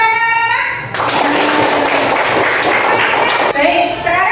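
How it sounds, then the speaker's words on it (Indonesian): Classroom applause from students, a dense burst of many hands clapping together for about two and a half seconds, framed by a teacher talking before and after. "Betul, tepuk tangan."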